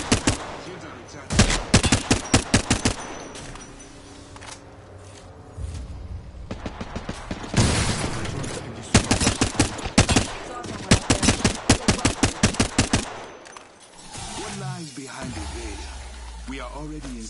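Close automatic gunfire in a video game battle rips out in several rapid bursts of sharp shots separated by short pauses, with a voice talking over the fighting.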